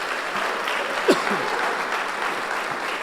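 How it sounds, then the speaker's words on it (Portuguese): A church congregation at a conference keeps up a steady roar of applause, with a brief shout or cheer rising out of the clapping partway through. "Vamos bater palmas para Jesus bem forte."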